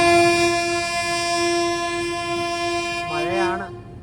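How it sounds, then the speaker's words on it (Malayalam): The Navayuga Express pulls into rainy Balharshah station with one long, loud, sustained horn blast that wavers briefly near its end. "ബൽഹാർഷ സ്റ്റേഷനിലേക്ക് ഇതാ ട്രെയിൻ എത്തിയിരിക്കുകയാണ്"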